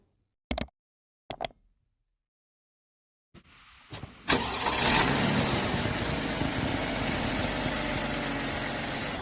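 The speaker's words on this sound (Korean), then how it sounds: "사고 여부 확인 후에 엔진 소리 듣고 영상 마무리하도록 하겠습니다" A Genesis DH 380 car engine turns over and settles into a steady idle after a couple of sharp clicks, with a low continuous rumble close by.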